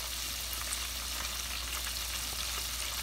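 Flounder (fluke) pieces in batter frying in hot oil, giving a steady, close, broadband sizzle that holds even and continuous throughout with no talk over it.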